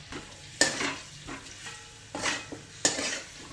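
Chicken jalfrezi with Kashmiri chili is stirred in a hot pan, a spatula scraping the metal in several separate loud strokes over a soft background sizzle.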